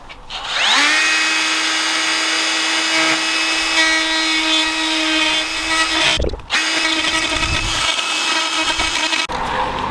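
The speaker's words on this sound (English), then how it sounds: "I'm actually going to use my die grinder just to clean these edges up" A die grinder deburring drilled metal edges whines loudly at a steady high pitch, briefly cutting out and restarting, then keeps running.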